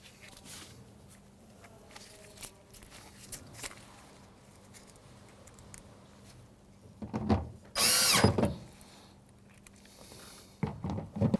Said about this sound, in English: Go ahead and put our 3 Phillips screws back in place.